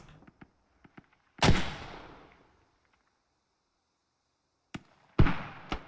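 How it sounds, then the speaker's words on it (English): Mortar fire in a multiplayer video game match: a few faint popping clicks, then a loud thump with a long rumbling decay, a quiet stretch, and another sharp blast trailing off. "Yep, mortars coming in from storage site."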